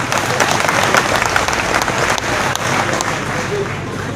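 A political gathering crowd claps steadily and loudly, the dense applause mixed with crowd murmur and some voices throughout.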